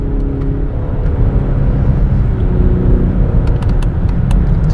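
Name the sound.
Lexus LS 500h hybrid sedan driving at very high speed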